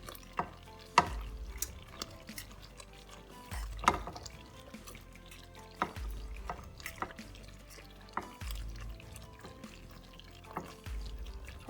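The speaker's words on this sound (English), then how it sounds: "so then we're going to mix in the pasta." Pasta and chicken are stirred into a sauce in a pan for a cheesy chicken Alfredo bake, giving wet, sticky squelches and utensil clinks in an irregular rhythm, close by.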